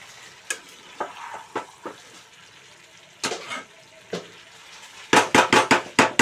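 Cauliflower, potato and paneer curry being stirred in a pan, a soft sizzle broken by scraping spoon strokes, isolated at first, then a fast cluster of loud scrapes at the end.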